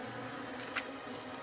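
Bees gather at a homemade pollen substitute feeder, a faint, steady insect buzz running throughout with one brief louder swell of a bee passing close.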